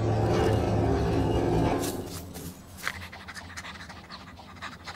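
A cartoon dog pants heavily for about two seconds in rapid, breathy rhythm, then gives way to quieter scratchy rustling and faint movement sounds.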